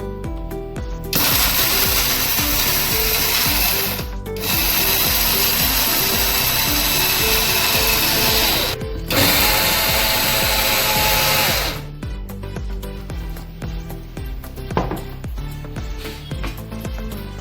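An electric mixer grinder whirs loudly as it grinds a dry mix of ginger powder, poppy seeds and cardamom, running in three long bursts with brief pauses, then rattling down to a lower churning.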